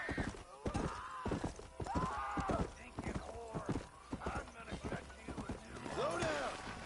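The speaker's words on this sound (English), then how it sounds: "NPCs run their horses like mad in this game." Horses gallop hard in the Red Dead Redemption video game, a loud rapid clip-clop of hooves with a whinny and neighing, running continuously under a speaking voice.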